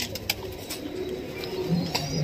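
Pigeons coo softly at a rooftop loft in Jammu, low murmuring calls mixed with a few sharp clicks and flutters, fairly close.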